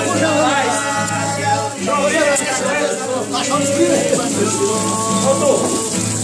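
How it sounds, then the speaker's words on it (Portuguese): Steady rain patter fills the background while people talk over it throughout, the hiss continuous and fairly loud. "Uma chuva dessa não vai sair daqui"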